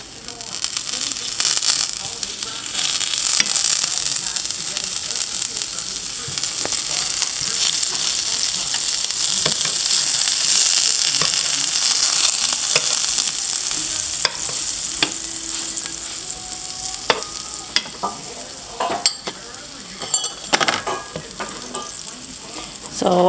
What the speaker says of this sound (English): I'm going to add more butter to the pancakes.